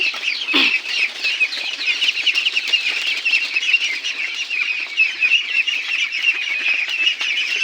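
A flock of 19-day-old Pekin ducks flap their wings and shuffle about, making a continuous, fairly close rustle of fluttering wings and movement with no voices.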